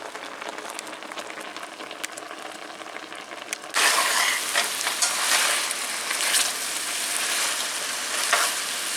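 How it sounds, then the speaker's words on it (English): Chicken tikka marinade stir-frying on the highest flame, a quieter crackle that suddenly swells into a loud, dense sizzle with scraping stirs, no talking. "we're gonna stir fry this marination at the highest flame possible"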